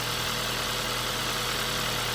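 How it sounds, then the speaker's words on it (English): A freshly installed Hyundai/Kia 1.6L car engine idles steadily with a low, even hum and slight vibration, continuous and fairly close, with no talking. "So at this period, you don't rev the engine, let it idle."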